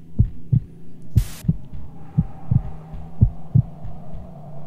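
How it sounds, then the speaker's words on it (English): A Sonic.exe horror game plays a heartbeat effect of loud, close, deep double thuds in a steady rhythm. A low hum runs underneath, and a brief hiss cuts in once early on. "His heartbeat's getting faster."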